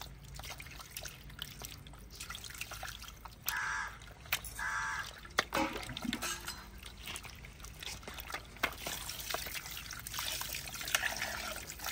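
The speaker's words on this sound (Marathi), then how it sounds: "आपण 2 ते 3 वेळा स्वच्छ पाण्याने मटन धुणार आहोत।" Mutton being rinsed in clean water, with trickling and splashing of water and intermittent handling sounds, fairly faint, with a crow cawing in the background.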